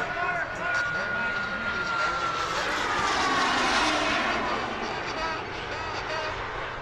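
Black Horse L-39 Albatross jet landing at an air show, a continuous loud engine roar and whine sustained throughout, slightly swelling in the middle.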